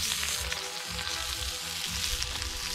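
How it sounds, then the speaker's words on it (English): Rib fillet, corn and potatoes sizzle steadily over a campfire while bush camping, with a constant close frying crackle and no talk. "bush cooking on the fire. Bit of rib fillet, corn,"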